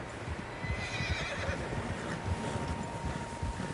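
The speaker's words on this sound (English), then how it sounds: "Horses, quite a few of them." Horses neigh and whinny in the open country of the video game Red Dead Redemption 2, a moderately distant call heard over a low rumbling ambience with soft hoof-like thuds underneath.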